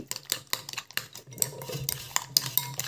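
Eggs being whisked in a bowl with chopped onion, green chilli, spices and coriander leaves, giving quick, steady clinks of utensil against the bowl and close metallic scraping, with no voices.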